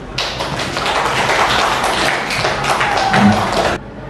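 An audience claps together at a teachers' community launch event indoors, a dense burst of many hands that rises quickly, holds for a few seconds and stops abruptly.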